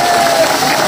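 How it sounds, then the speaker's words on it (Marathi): Audience at a political rally clapping for the student team who organised the event, a brief, loud burst of crowd applause and murmur filling the whole moment. "टाळ्या वाजवावं त्यांच्यासाठी"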